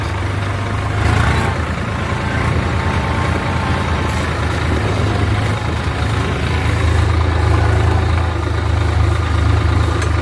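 A tractor engine runs in a maize field during sowing, a loud, steady, rumbling drone that carries on without a break for the whole stretch, with no voices heard.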